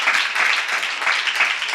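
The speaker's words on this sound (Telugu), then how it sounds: "కొట్టా చప్పట్లో." An audience at a women's church gathering claps together in a sustained, dense round of applause that stays fairly loud and steady throughout the short stretch.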